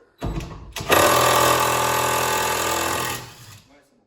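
A cordless impact wrench, a 1000Fucky model, loosening a nut, heard as a loud rapid hammering burst lasting about two and a half seconds, close by, after a brief start-up rattle.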